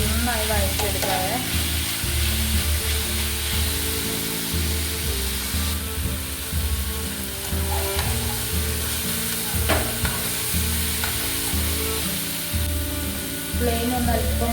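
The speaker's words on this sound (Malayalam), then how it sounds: "ഇനി നമുക്കിതൊന്ന് നന്നായി വഴറ്റിയെടുക്കാവേ" Chicken fry masala with tomato is sautéed in a hot pan, a loud continuous sizzle close by, broken up by repeated scraping and stirring strokes against the pan.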